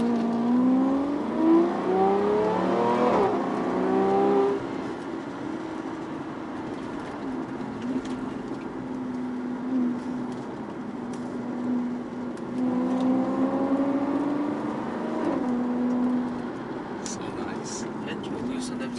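A Maserati driving with its engine note rising and falling through gear changes, a steady hum between them, while people talk inside the car.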